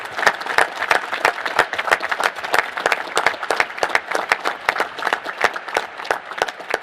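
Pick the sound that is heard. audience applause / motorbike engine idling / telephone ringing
audience applause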